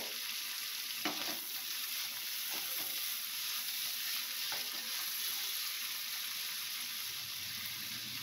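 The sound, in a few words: shrimp and greens frying in pan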